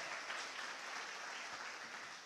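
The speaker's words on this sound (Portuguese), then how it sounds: "aplauda Jesus" A church congregation claps at an evangelical service, a dense, sustained wash of applause that holds at an even level for the whole stretch with no speech over it.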